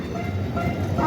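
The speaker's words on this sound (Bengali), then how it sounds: "আর হলো মিনি ট্রেন" A mini train ride at a riverside trade fair rumbles steadily up close, a low continuous rolling drone with faint rhythmic rail clatter and no talking.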